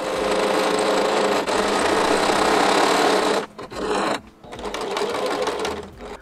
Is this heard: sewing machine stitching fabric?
yes